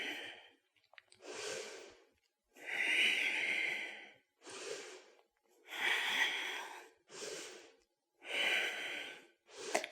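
Slow, deep breaths come in and out while a person holds a yoga wheel pose: about seven audible inhales and exhales in steady rhythm, close and clear with quiet gaps between them.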